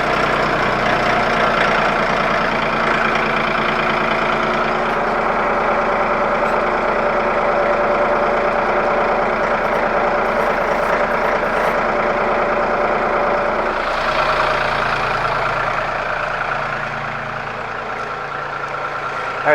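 Mahindra tractor fitted with a backhoe idling close by, a steady, loud, low diesel rumble that holds evenly and shifts tone slightly toward the end.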